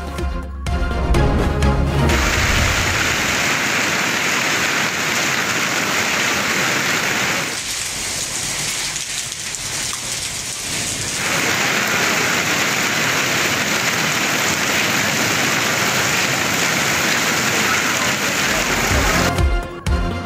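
Heavy torrential rain with hail in Pakistan, a dense continuous roar of downpour striking surfaces, loud and steady with a brief dip midway, and no voices over it.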